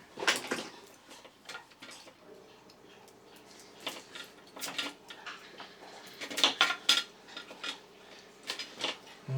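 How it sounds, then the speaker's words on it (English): Knife working on a vintage cable control from a 1958 Thunderbird convertible during repair, scattered sharp clicks and scraping cuts at irregular intervals, close and fairly quiet, bunching more densely toward the end. "I'm going to have to take a knife to that."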